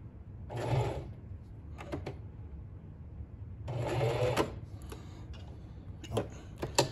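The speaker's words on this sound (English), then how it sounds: "I'll just feed this through and sew all the way around it" A sewing machine runs a zigzag stitch around a ski muff in two short bursts of rapid mechanical stitching. Softer clicks and handling noises fill the pauses between the bursts.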